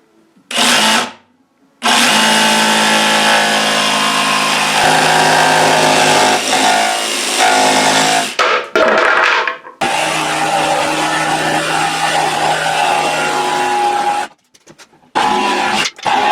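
A jigsaw cuts clamped-down wood for building pet stairs, with a loud, steady buzzing whine in long bursts separated by short pauses, close up and with no talking.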